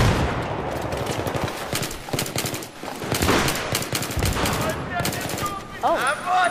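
Gunfire fills a Battlefield 3 team deathmatch on the Grand Bazaar map, with dense rapid automatic bursts and scattered single shots crackling continuously, loud and close, alongside distant firing.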